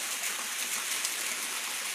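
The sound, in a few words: waterfall water falling onto rocks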